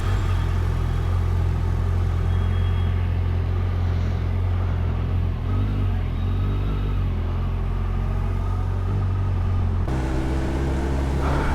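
A Kawasaki Ninja 1100SX motorcycle drones steadily and loudly on a short test ride after its first service in Pune, its engine note shifting lower near the end.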